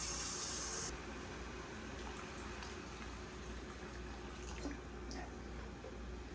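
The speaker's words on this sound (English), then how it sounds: "I need to add a couple cups of water to that to make it go above those" Water pours steadily from a tap into a large canning pot holding jars, a continuous close splashing rush that carries on at an even level throughout.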